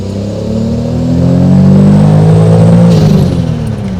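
Toyota Supra with a 2JZ engine and Precision turbo pulling at full throttle, a loud, close, rising engine roar that climbs steadily in pitch, with a faint whoosh near the end and no talk.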